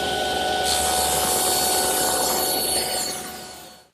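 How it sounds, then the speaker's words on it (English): A saw blade cuts a 25-degree bevel along the edge of a solid wooden piece for a CD storage case. A loud, steady whirring cut runs continuously, then tapers off as the blade winds down. "Now I'll bevel this edge"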